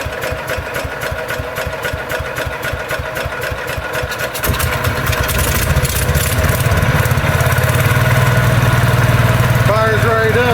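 A Kohler K301 engine fitted with a Walbro carburetor cranks with rapid rhythmic pulses, then catches and runs with a loud, steady, close-up mechanical roar while the throttle is held open.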